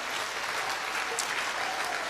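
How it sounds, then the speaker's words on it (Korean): Audience applause fills a concert hall at a church orchestra performance, a steady, even wash of clapping from many hands throughout, moderately distant. "감사의 박수 부탁드립니다."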